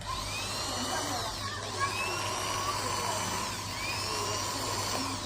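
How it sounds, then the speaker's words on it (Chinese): A cordless hand drill runs off an electric scooter's battery, giving a steady whirring motor whine with rising and falling pitch sweeps as it speeds up and slows down. It is moderately close and sounds alone, with no talk. "可以带手电钻用，"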